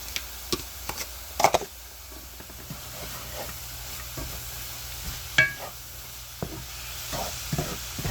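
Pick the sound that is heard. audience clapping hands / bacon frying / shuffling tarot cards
bacon frying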